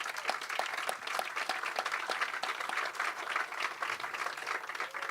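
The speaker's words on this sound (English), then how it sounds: "Let's give him a big round of applause." Audience applause at a groundbreaking ceremony for a new Educare early-learning facility in Springfield: a steady, dense wash of many hands clapping, sustained at even loudness throughout with no talk over it.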